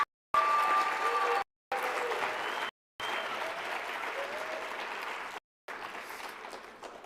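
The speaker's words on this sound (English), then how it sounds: "Can I please get a round of applause for Lila Bibby?" Applause at a youth citizenship awards ceremony, steady clapping from the audience that breaks off in several short silent gaps across about seven seconds.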